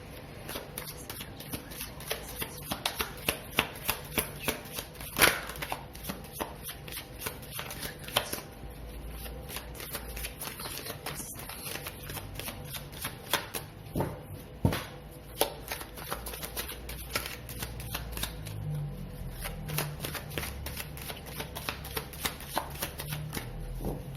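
Tarot cards being shuffled by hand, a steady run of soft riffling slaps and flicks that continues close and fairly quiet for the whole stretch, with no talking.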